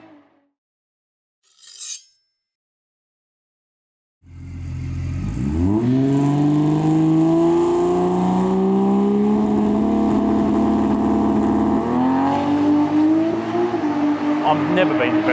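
A turbocharged Mustang drag car sits on the trans brake building boost. After brief quiet, the engine bursts into a loud, sustained close roar that climbs steadily in pitch as boost rises, then shifts slightly near the end.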